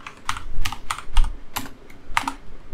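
Python code typed on a computer keyboard: a quick, irregular run of crisp key clicks, close and clear, with small pauses between bursts and no speech.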